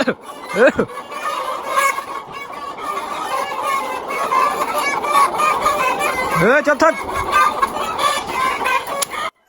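Frightened laying hens on a layer farm at dawn squawk and cackle in a dense, continuous flock chorus, with sharp alarmed calls rising above the din, close and loud.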